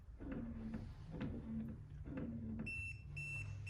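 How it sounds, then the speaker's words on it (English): A motorised roller blind's tubular motor jogs back and forth in a few short whirring bursts during limit adjustment, then gives two clear electronic beeps, close and with no talk. "Now the motor's just jogged and beeped"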